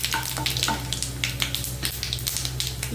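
A pan frying ingredients for beetroot curry gives a steady, close, dense sizzle and crackle with a low hum beneath, running continuously without talk.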